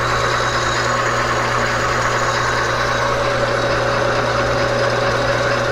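A machine test-runs on a newly made plastic drive gear, giving a loud, steady mechanical drone with a constant low hum that carries evenly throughout without pause.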